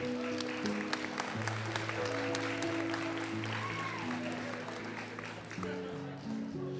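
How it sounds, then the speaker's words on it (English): Applause at a nursing white coat ceremony, a crowd clapping steadily at moderate distance under sustained tonal music and faint voices, the clapping thinning slightly toward the end. "All righty, let's give applause for these two accelerated students."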